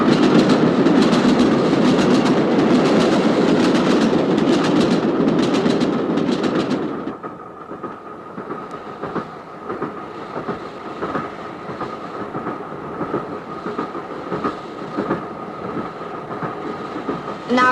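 A train rumbles loudly along the rails, then the roar drops to a steady rhythmic clatter of wheels over track joints that continues.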